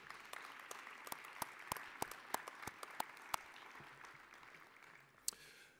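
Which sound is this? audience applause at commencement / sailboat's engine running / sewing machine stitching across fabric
audience applause at commencement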